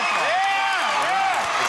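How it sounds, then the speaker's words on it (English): Loud studio audience applause and cheering at a taping of the CBS game show Family Feud during an Armed Forces Week episode, a dense wash of crowd noise with rising whoops, running continuously throughout. "Give him a big round of applause"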